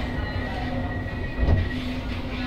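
LRT-1 light rail train pulling out of a station, a steady low rumble of motor and wheels with a brief louder surge midway and a constant tonal hum throughout.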